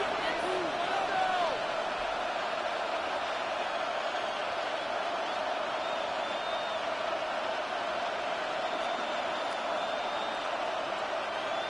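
A stadium crowd in an EA Sports NFL video game keeps up a steady, distant roar with scattered whistles throughout, building ahead of a big third down.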